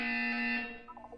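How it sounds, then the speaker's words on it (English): A buzzer from the video game Portal 2 sounds as a single steady, bright electronic tone, loud and close, holding for about half a second before fading into a soft tail. "You will hear a buzzer."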